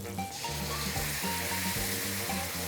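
Shepherd's pie meatballs caramelizing in a hot pan, giving a steady, close, crackling sizzle with faint spatters, alone without talk.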